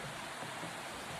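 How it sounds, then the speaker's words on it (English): A small waterfall on the Foothills Trail in the woods, giving a steady, dense rushing roar of falling water, even and continuous throughout, nearby and alone. "Nice little waterfall."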